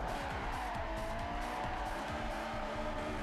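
A Honda S2000 slides through a drift in the racing game Forza Horizon 4, tires squealing continuously over a steady engine drone, held at an even level for a few seconds with no voices.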